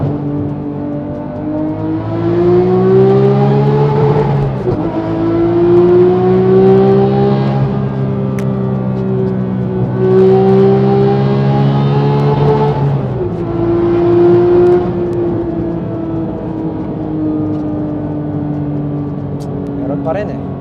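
A Porsche GT3 engine revs repeatedly toward 9000 RPM, pitch climbing and falling in three long sweeping pulls with a loud, sustained tone inside the car.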